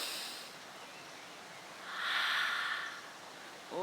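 Slow, deep inhalation through the nose, swelling in the middle and fading out, heard close and alone with no talking.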